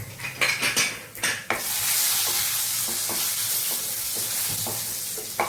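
A few metal clanks of a spoon against the pan come first, then crushed garlic, curry leaves and asafoetida sauté in a steady, close sizzle, stirred with occasional soft taps.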